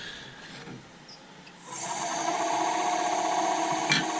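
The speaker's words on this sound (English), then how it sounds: "Give it a quick scrape with a negative rake scraper." A negative rake scraper worked against a wooden bowl spinning on a lathe, with a steady, loud rasping scrape that starts about midway and carries on continuously to the end, after a quieter stretch of motor hum.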